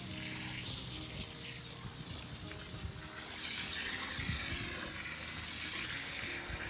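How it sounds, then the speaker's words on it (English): Water from a garden hose pours into a container, a steady, full rush of running water that holds at a constant level throughout, with no voices. "let me grab the hose here. Now we're gonna add our water."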